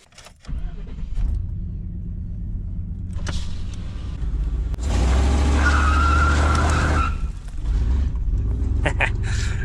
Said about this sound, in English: maybe we'll see if he'll spin the tires on this bridge